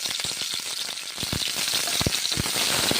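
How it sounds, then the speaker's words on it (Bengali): Spice paste and cauliflower fry in a wok with a dense, close hiss. Scattered clicks and taps from stirring punctuate the sizzle throughout. "মশলা আর ফুলকপি ভেজে নিচ্ছি।"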